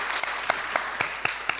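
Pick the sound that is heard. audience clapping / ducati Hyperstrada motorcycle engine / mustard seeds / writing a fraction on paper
audience clapping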